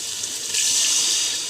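Water runs steadily from a tap into a pot for basmati rice for a prawn biryani, a bright continuous hiss that swells louder about halfway through and holds to the end, with no talking.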